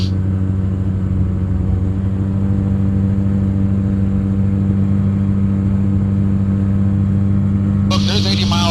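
A Quicksilver GT500 ultralight aircraft engine holding a cruise at 4,500 RPM around 80 mph, a loud, steady droning hum that stays even for the whole stretch, with a brief burst of talk near the end.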